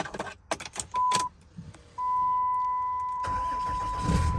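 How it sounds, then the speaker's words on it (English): Diesel truck engine, sitting unused for a while, cold-starting: a few clicks and rattles, two sustained dash chimes, then the engine cranks and catches into a rough idle near the end, close, with no talk. "let's get her fired up. She's been sitting for a while. This is a true cold start, guys."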